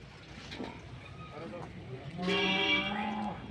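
A buffalo lets out a loud, drawn-out moo close by near the end, after a stretch of background voices and farm noise at the Erragadda Sunday buffalo market.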